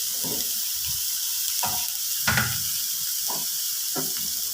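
A mixture of bitter gourd, carrot, onion, green chilli, coconut, salt and turmeric is stirred in a pan, with several distinct spatula strokes over a soft, steady sizzle.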